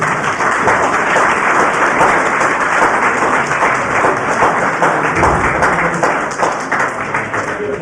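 Dense, sustained applause from the audience at a book dedication ceremony fills the whole stretch, many hands clapping loudly and evenly with no pause.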